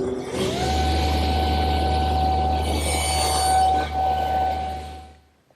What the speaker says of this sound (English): Now I've lowered the saw to about 1/16 of an inch to make these short shoulder cuts.